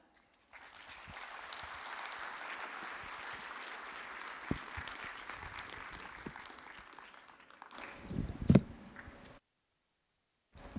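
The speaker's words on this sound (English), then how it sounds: "Please give a big applause to Ingolf Wunder." Audience applause at an Internet Governance Forum session in a multifunctional hall, a sustained moderate wash of clapping for about eight seconds before fading out into a sharp bump and then silence.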